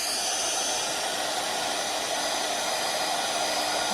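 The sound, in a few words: heat tool heating embossing powder on watercolored card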